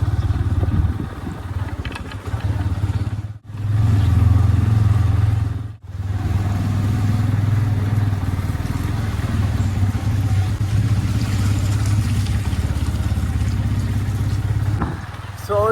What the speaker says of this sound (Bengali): এখন আমি বাইক নিয়ে বেরিয়ে যাচ্ছি